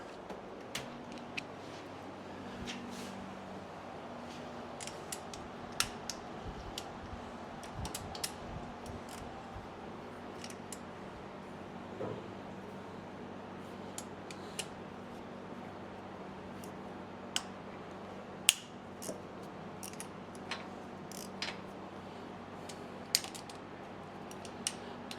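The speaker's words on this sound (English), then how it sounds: "Go with the small ratchet and a 10" A small ratchet works bolts loose on a Suzuki LTZ 250 quad engine during a refresh, giving sparse, faint clicks and ticks scattered over quiet workshop background, with no talking.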